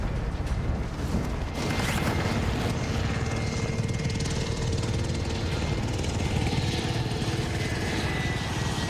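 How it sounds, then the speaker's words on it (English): Helicopter in the video game Call of Duty: Modern Warfare, a continuous loud rotor thrum and engine drone holding steady throughout, close and dominant with no speech. "I'm gonna land on one of these helicopters again."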